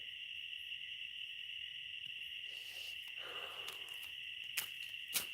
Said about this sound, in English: the crickets, they're so loud